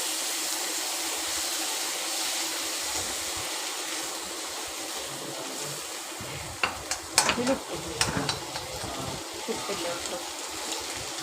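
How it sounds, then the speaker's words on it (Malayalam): Masala frying in a pan with tomatoes for Malabar beef biryani, a soft continuous sizzle that turns into a burst of stirring and clattering halfway through, heard close without voices. "മസാല നല്ലവണ്ണം മൂത്തതിന് ശേഷം തക്കാളി ഇട്ട് കൊടുക്കുക"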